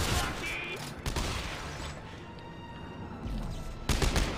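Gunfire in the sci-fi horror video game Dead Space 3: a loud burst of rapid shots and crashing impacts opens the clip, a dense game soundscape follows, and the shooting returns at the end.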